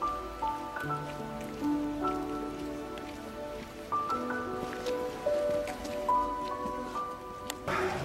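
Steady rain patters on surfaces during an excursion in Armenia, a continuous soft wash of drops heard under sustained tonal sounds that shift in pitch.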